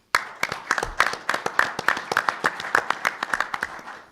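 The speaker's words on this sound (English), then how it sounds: "Please join me in applauding Eric and Valero for their partnership" Audience applause at the Valero Alamo Bowl Golf Classic press conference in San Antonio, steady rhythmic hand clapping from a modest crowd that continues for several seconds.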